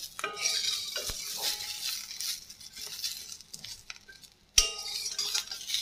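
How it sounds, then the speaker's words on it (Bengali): A spoon stirs a bhorta mash in a cooking pan, close and moderately loud, giving soft scraping and occasional clinks in irregular strokes with a brief pause near the end. "তো একটু পর পর হচ্ছে আমি নাড়া দিতে চলে যাবো।"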